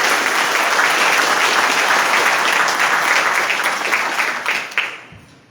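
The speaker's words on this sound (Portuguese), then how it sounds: "nós vamos dar uma grande salva de palmas para todos vocês que estão aqui" Audience at a swearing-in ceremony for participatory budget council members breaks into loud, sustained applause that holds steady, then thins out and stops near the end.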